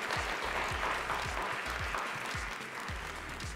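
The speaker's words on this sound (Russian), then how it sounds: "Давайте поаплодируем." A television studio audience applauds steadily for the contestants on a game show, a dense, even wash of clapping throughout, fairly close.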